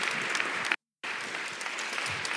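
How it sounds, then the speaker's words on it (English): A panel-discussion audience applauds warmly; the clapping is broken by a brief total dropout and then carries on evenly, with no voices. "I would like you to have a big round of applause before you leave"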